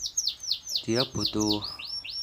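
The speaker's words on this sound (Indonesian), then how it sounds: "burung kenari betina itu yang sedang meloloh itu" A female canary feeding her chicks gives a rapid series of high, sweeping chirps and tweets, close and fairly loud, while someone speaks briefly over the middle of the calls.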